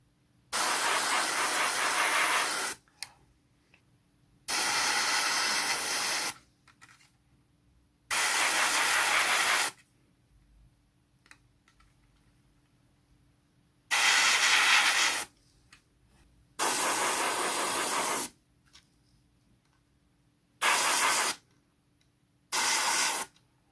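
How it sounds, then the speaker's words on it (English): An airbrush sprays paint onto a Battlestar Pegasus model's flight pod in seven separate hissy bursts of one to three seconds each, with near-silent pauses between them and no talking. "then spray it onto the flight pod"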